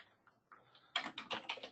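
Rapid keystrokes on a computer keyboard while entering an amount into accounting software, a close, crisp burst of clicking that starts after a short quiet lead-in.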